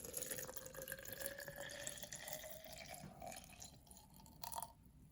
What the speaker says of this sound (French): faut que je verse ça dedans